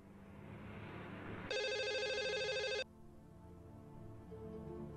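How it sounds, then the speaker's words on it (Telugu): A telephone ringtone sounds once inside a TV serial scene, a bright electronic warble lasting just over a second and standing out clearly above a low room hum, with no talk around it. "సౌండ్స్ లో నాకు నచ్చని ఒకే ఒక సౌండ్ ఫోన్ సౌండ్."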